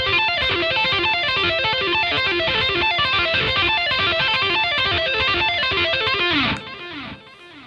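Fast distorted electric guitar tapping lick, rapid repeating note cascades in a steady rhythm, loud and alone, ending with a brief softer tail.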